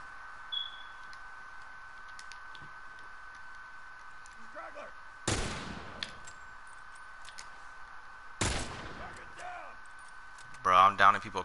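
Gunfire in The Last of Us Remastered Factions multiplayer, two sharp isolated shots a few seconds apart over a low steady hum, followed by a brief burst of chatter or rapid noise at the end.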